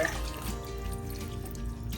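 Water trickles and drips steadily as chopped vegetables drain into a cooking pot in a home kitchen, a soft continuous liquid patter close by with no talking.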